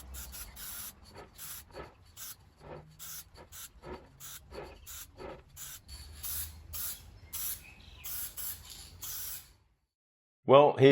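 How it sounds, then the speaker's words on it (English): A spray can lays clear coat onto a wooden plant stand in a series of short hissing bursts with brief gaps between them, close and fairly loud, ending in a moment of silence. "I then finished off the stand with a couple of coats of spray can clear."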